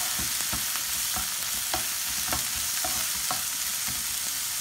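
Spinach sizzles steadily in a hot pan while a spatula scrapes and knocks against it in regular strokes, close and with no talking.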